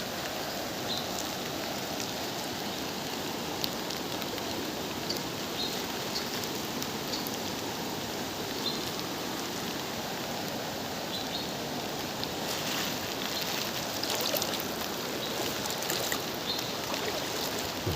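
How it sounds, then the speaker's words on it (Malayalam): A rain-swollen stream overflows its banks during a flood, its continuous rushing and splashing mixing with falling rain in an even, unbroken roar with no voices. "തോട് കമ്പിള്ളത്തോട് നിറഞ്ഞ് കവിഞ്ഞൊഴുകുന്നു."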